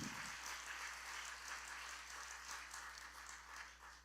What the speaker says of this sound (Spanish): ¿por qué no dan un aplauso